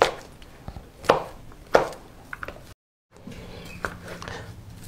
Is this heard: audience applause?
no